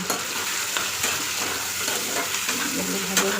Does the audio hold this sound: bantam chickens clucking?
no